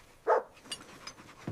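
A single short dog bark rises near the start, followed by faint scattered sounds and a low thump at the end.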